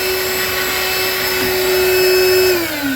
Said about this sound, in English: even with my shop vac, well, it's just a portable battery powered.